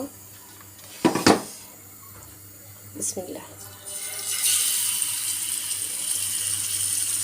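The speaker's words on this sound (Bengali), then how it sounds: "এখন আমি আস্তে আস্তে করে মাছগুলো ছেড়ে দিব।" Pomfret fish slid into hot oil on a tawa, giving a few metallic clatters and then a rising, steady sizzle that fills the rest; a voice speaks briefly near the start.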